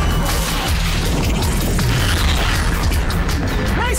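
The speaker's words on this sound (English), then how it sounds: "Torpedoes!" Torpedoes explode in an animated cartoon battle, a dense, continuous barrage of loud booming crashes and rumbling blasts with no pause throughout.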